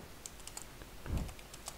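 Quick typing on a computer keyboard while searching for a diode in circuit software: a few light, close key clicks in an irregular rhythm, with one heavier thump in the middle.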